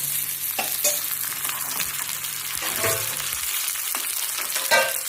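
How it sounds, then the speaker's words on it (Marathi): Stuffed brinjals and onion fry in a pan for a bharli vangi dish, giving a steady, close crackling sizzle with stirring scrapes and a few louder pops throughout. "कांदा भाजा झाला त्याच्याबरोबर वांगी पण भाजली."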